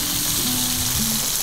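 Shrimp sautéing in a pan for linguine gives a steady, close sizzle, a brief continuous hiss of frying without any talking.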